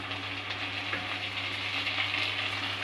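Tomatoes dropped into a hot pan on a medium flame while cooking dal fry, giving a steady, close sizzle and frying hiss with a low constant hum beneath and no talking.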